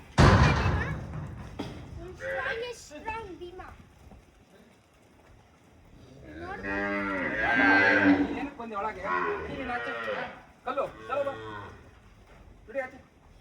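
Bhima, a desi bull on a dairy farm, gives a loud, close moo at the start, followed by people talking nearby while the farm surroundings stay quiet.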